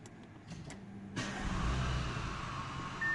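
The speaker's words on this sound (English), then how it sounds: "Yes, definitely starts with starter, not with starter alternator." Audi A6 C8 engine cranked by its conventional starter motor, a low rumble catching after a quiet lead-in and then settling into a steady idle nearby, with no voices.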